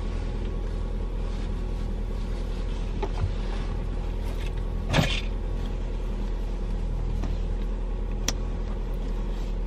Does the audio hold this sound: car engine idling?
yes